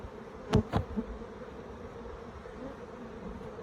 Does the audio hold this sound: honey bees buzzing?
yes